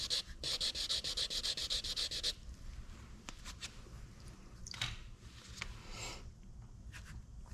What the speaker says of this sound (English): we're going to attempt to wet sand the black off to show the white without breaking through the white. So we have 600 grit here.